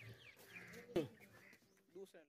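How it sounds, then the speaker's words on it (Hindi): A long-eared desi goat with wattles gives one short, close bleat amid quiet background sound, with faint voices nearby. "जालर वाला देसी बकरा है, लंबे कानों वाला माशाल्लाह"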